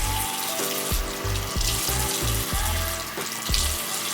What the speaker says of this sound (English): Get some water in there.